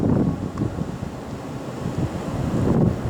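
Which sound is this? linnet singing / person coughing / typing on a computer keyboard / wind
wind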